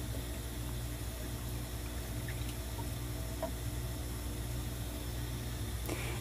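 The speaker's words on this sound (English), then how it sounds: "we are going to inundate the cell with water" Water fills a one-dimensional consolidation test cell in a soil lab, a steady low gurgling rush with a constant hum underneath and a few faint clicks, continuous and without speech.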